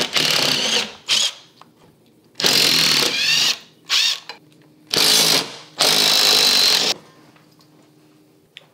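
A power drill driving screws into a wall to hang a TV mount: loud whirring bursts in repeated start-stop runs, some short and some lasting about a second, close by, with quiet gaps between.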